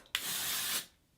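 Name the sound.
Moroccanoil dry texture spray sprayed onto hair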